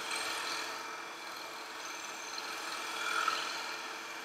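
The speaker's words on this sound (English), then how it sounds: "Using a shear scrape just to shape it a little bit." A shear scraper working a wooden acorn spinning on a lathe, giving a steady, soft continuous scraping hiss that holds fairly even and swells slightly near the end, with no voices.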